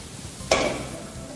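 Pork stir-fries with yellow and red bell peppers in a pan, a sudden loud sizzle as the peppers go in, then a fading hiss with light stirring.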